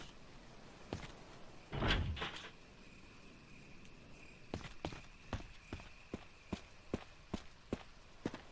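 Heavy metal doors in the Resident Evil HD Remastered courtyard grind open in one loud swell, followed by a steady, evenly spaced run of footsteps receding into faint ambience.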